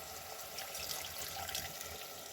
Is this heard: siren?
no